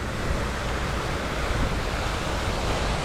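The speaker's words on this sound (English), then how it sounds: "I'll wait till we get past this waterfall." A waterfall gives a loud, steady broadband rush of falling water, continuous and unbroken, with no voices over it.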